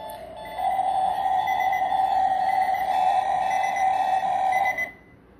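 An alarm sounds a sustained electronic tone, steady and fairly loud for about four seconds before cutting off abruptly, with no voices over it.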